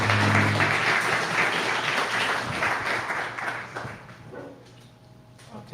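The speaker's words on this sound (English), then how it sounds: "Let's give Austin a round of applause" A conference audience claps steadily for a speaker, a dense and fairly loud applause that gradually thins out and fades toward the end.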